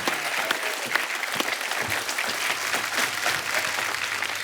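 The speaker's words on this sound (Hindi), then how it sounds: "तालियां बजती रहनी चाहिए आपकी" A studio audience at a comedy talk show applauds in a steady, dense wash of many hands clapping at once, continuous and even throughout, close and fairly loud with no clear talk over it.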